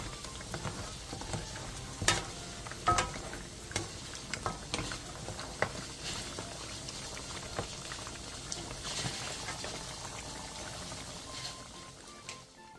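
Braised pork rib broth seasoned with chili powder and garlic simmers down in a pot over medium-low heat, giving a continuous soft bubbling and popping that stays even throughout with no talk.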